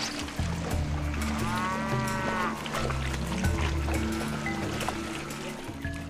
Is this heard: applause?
no